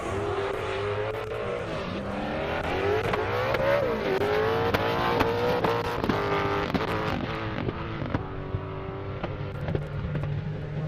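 Drag race car screaming down a half-mile airport airstrip, engine revving and climbing through rapid gear changes, loud and sustained for the whole stretch with sharp pitch sweeps and a rough, roaring tone, no talking.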